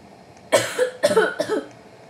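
Three harsh coughs in quick succession from a young person playing car games on Roblox, close and loud against a quiet room.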